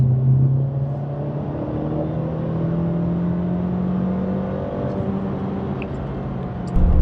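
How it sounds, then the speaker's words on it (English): A Mercedes C180 W206 accelerating in sport plus mode, heard from inside as a steady engine drone whose pitch climbs gradually through a long gear, fairly loud with no talk. "let me flip her into sports, plus actually, and give her some gas."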